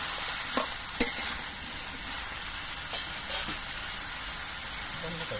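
Mixed vegetables frying in oil in a pan, a steady close sizzle and hiss with a few sharp scrapes as they are stirred.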